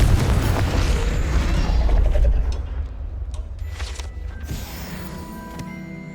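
A Confringo fire spell blast in Hogwarts Legacy, a loud, deep rumbling explosion that rolls for a couple of seconds before fading into crackling debris and a lingering low ambience.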